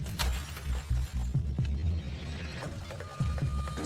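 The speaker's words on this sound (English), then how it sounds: "somebody just smashed the window out of the side of my rig" A vehicle side window is smashed, heard as sharp shattering cracks and scattered breaking bursts, fairly quiet and distant, with no talk.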